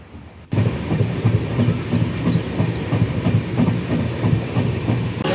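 Passenger train rolling along the rails near Surat, India, a steady close rumble with rhythmic clickety-clack of wheels over track joints starting abruptly and continuing without voices.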